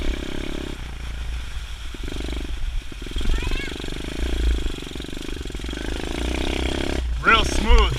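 A Honda SR125 pit bike engine idles and revs steadily in a backyard, a continuous low mechanical drone with rising throttle sweeps near the end, while someone talks over it.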